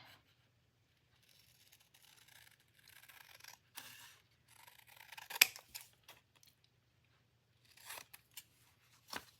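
Scissors cut paper for a handmade Valentine journal: a sparse series of quiet, crisp snips and slicing strokes with short pauses between them, close by in an otherwise quiet room.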